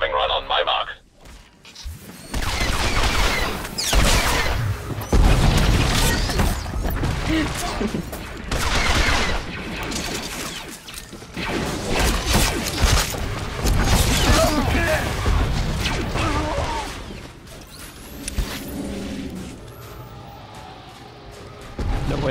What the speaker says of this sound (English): Bombing run on my mark.